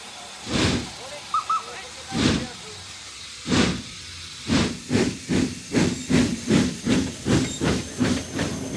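Steam locomotive in Ireland vents loud bursts of hissing steam, first a few widely spaced chuffs, then a quickening run of regular rhythmic exhaust beats, close and strong.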